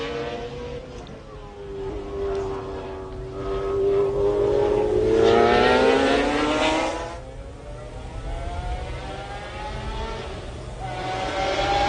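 Andy Wallace's McLaren race car at the 1995 Le Mans 24 Hours passes with an engine whine that rises and then falls away, with other race cars droning underneath, heard continuously from trackside.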